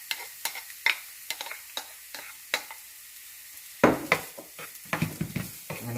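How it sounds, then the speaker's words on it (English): Celery cooks in a pan for Japanese rice balls, sizzling softly while a utensil stirs and scrapes it in a series of sharp, close clacks and scrapes, with a busier burst of stirring near the end. "I'm going to let the celery cook with it for a bit."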